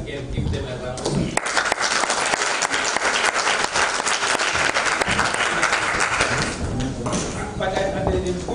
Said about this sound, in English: we really need to, again, give them a round of applause.